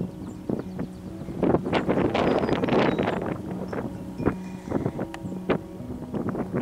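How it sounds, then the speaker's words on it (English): Gusts of wind in a cemetery buffet the microphone in uneven bursts of low rumbling and crackling, with a faint steady hum underneath. "Today is a windy day out here, so hopefully the audio is okay."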